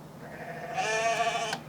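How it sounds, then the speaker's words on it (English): A goat bleat sample sits inside a music beat, a single wavering, nasal cry lasting under a second over a soft sustained backing. "that's a goat sample"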